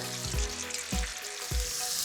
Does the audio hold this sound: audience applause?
no